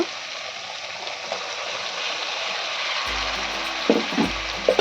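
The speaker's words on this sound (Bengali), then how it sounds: "মেটেটা দিয়ে দিয়েছি দিয়ে কিন্তু খুব আস্তে আস্তে নাড়তে হবে" Goat liver frying in spiced oil makes a steady close sizzle, then a spoon stirs it slowly with soft scrapes and knocks against the pan near the end.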